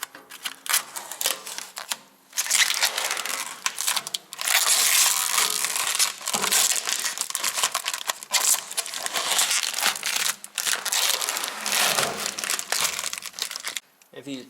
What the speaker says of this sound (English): So this is the most satisfying thing, to remove the film.